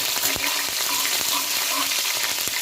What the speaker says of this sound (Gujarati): હવે આપણે મરચાં સાંતળી લઈએ